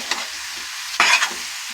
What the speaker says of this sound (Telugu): వేసుకొని ఒకసారి మెదుపుకుందాం.